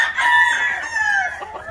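A dark Stuart Yellow Leg Hatch gamecock, a breeding rooster, lets out a single loud crow close by, with no other sound around it.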